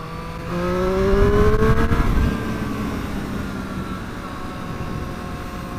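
A Triumph Street Triple RS motorcycle engine revs hard under throttle, its pitch climbing then holding steady at a high drone. It sounds loud and close, with rushing wind noise underneath.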